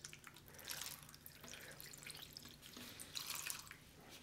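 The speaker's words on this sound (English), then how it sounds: "So let's just pour this in here." Liquid pours onto a rusty vintage Collins axe head, giving a faint, steady trickle with dripping and splashing for several seconds and no voices.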